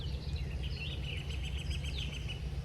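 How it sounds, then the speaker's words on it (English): Birds chirping and twittering in the distance over a low, steady rumble of background noise, with no voices. "Hear the birds."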